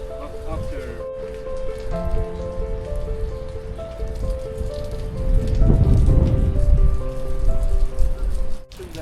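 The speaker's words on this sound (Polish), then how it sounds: "Deszcz trochę zelżał" Steady rain patters on a surface in Durrës, Albania, getting heavier midway, with a low background hum and faint tonal sounds underneath.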